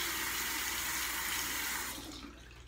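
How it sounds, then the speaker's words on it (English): Water runs steadily from a tap over fingers while working a LUSH Dark Angels cleanser, a close, continuous broadband rush that tapers off near the end. "So I'm gonna put some water on my fingers."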